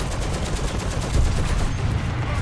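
Dense, continuous gunfire in a World War II shooter game, a loud rapid wash of shots and blasts with no pause across the whole stretch.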